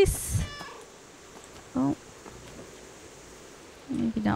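A cat meows in the video game Stray, short mewing calls at the start, middle and end over quiet background, with a brief spoken exclamation near the start.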